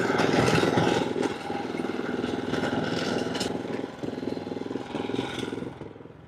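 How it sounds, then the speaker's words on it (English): Lawn mower running steadily across a yard during fall mowing, a close, continuous engine drone with slight clattering changes in load that fades toward the end, with no voices. "I'm gonna go over there real quick and put that in, or mow it real quick"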